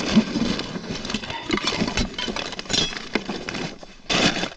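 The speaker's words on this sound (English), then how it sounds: "Driving over these bumps." Vehicle engine rumbling while driving over bumpy ground, with repeated jolts and clinks of loose items rattling inside. The noise is continuous and near, with a brief louder burst toward the end and no talk.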